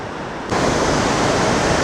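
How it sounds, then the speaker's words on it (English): The Great Falls of the Potomac River roar in a dense, continuous rush of torrential water. The sound surges in abruptly after a quieter moment and stays loud and steady. "This is one of the most spectacular waterfalls I've seen in a long time."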